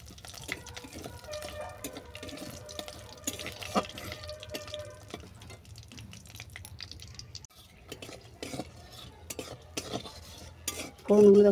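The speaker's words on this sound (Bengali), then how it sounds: "ফোড়নগুলো দেখো ভালো করে ভাজা হয়ে গেছে" Dry red chillies and whole garam masala frying in hot oil while a metal spoon stirs and scrapes the pan, with intermittent clinks and soft sizzling, ending in a brief louder burst.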